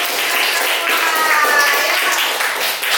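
Children in a morning class clapping their hands together, a loud, continuous mass of close claps filling the room, with a few voices mixed faintly underneath.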